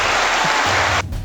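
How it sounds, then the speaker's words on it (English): A loud, dense burst of canned applause plays on a hip-hop podcast, a steady wash of clapping that cuts off abruptly after about a second. "Let me get some applause going"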